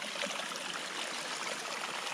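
Spring water gushes steadily out of a mountainside beside a hiking trail, a continuous close rushing and splashing with no pauses, alone without voices.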